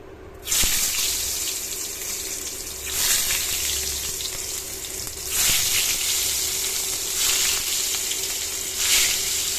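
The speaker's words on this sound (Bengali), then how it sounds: "এখানে ডালটাকে ছিটি মেরে রেখেছি, এখন এটাকে ভেজে নেব আমি" Soaked dal fries in hot oil in a pan, giving a loud, steady sizzle that swells in several waves as it is stirred, close and continuous.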